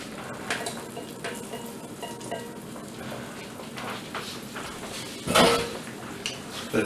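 Beaten eggs go into a hot pan of melted butter for a French omelet, with a steady low sizzle, scattered soft clinks of utensil on pan and a brief louder scrape near the end.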